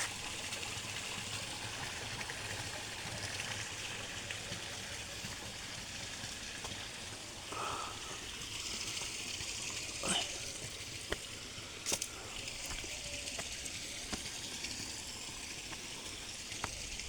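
Water trickling and streaming into a small side swimming pool on a small farm, a steady soft wash of flowing water, low and continuous, with a few faint clinks and thuds.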